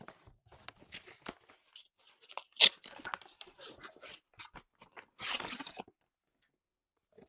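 Packaging of a new iPhone 17 Pro Max is torn open, with scattered crinkles and scratchy rips building to a sharp tear and a longer burst of ripping, close and quiet overall.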